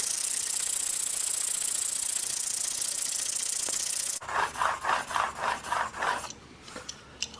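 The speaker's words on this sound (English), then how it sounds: "I've sharpened one edge of the blade with 2500 grit" A Grim Reaper blade in a Hades Pro sharpener is worked on a 2500 grit stone. A steady hiss gives way to about half a dozen rhythmic back-and-forth rasping strokes, close and fairly loud, then a softer scrape.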